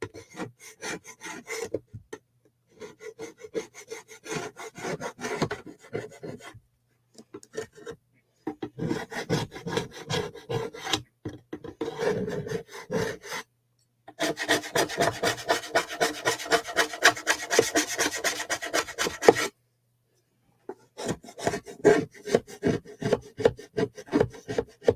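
Hand scraping of a surface to strip off a black coating, rapid rhythmic rasping strokes in bursts separated by short pauses, close and crisp with no talking.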